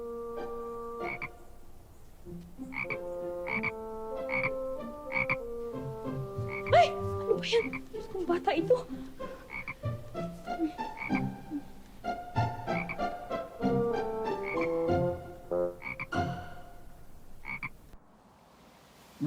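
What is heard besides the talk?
frog croaking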